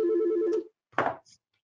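A telephone ringing at a conference, one short electronic ring of warbling tones that stops abruptly, followed by a brief clatter and faint handling noise.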